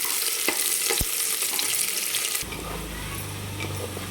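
Chopped onions fry in a pan for chicken masala, cooking until pink, with a continuous close sizzle and crackle; a short clatter comes partway through, then the sizzle carries on under a lower hum.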